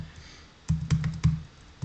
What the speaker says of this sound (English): Let's type it up here.